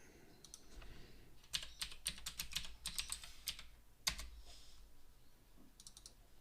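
Rapid clicking of computer keyboard keys in irregular bursts, close and fairly quiet, with a few louder keystrokes and short pauses between runs.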